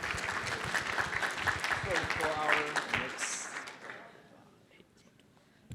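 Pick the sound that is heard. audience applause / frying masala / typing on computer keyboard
audience applause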